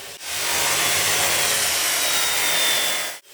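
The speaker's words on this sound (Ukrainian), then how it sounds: "Ріже метал для майбутньої окопної свічки" A power tool cuts metal in a garage workshop for a trench stove, one steady loud grinding whine held for about three seconds with abrupt start and stop, no voices.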